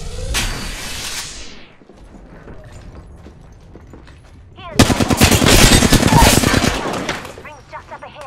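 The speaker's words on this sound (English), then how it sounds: "Opening fire." Video game gunfire comes in two bursts, a rapid automatic rattle at the start and a louder sustained fusillade later, with a voice speaking between them.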